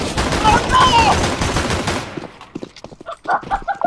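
Rapid gunfire rattles in a Counter-Strike: Global Offensive match, with a dense burst of shots that cuts off abruptly into sparse, scattered pops and clicks.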